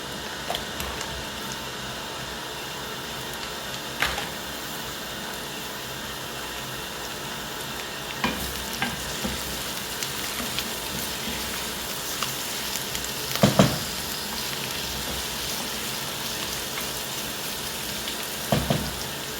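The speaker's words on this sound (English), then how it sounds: "So next, I'll put in our carrots to also cook." Carrots added to Irish potatoes frying in a spiced green peas and egg curry pan, giving a steady, close sizzle with occasional louder crackles and spoon clinks, no talking.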